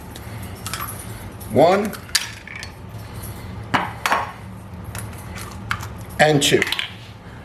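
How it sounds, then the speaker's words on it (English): Two eggs cracked against and into a mixing bowl for homemade lasagna filling, with sharp clinks and shell taps scattered across the moment as someone speaks throughout. "And now we're going to crack 2 eggs and put it in there."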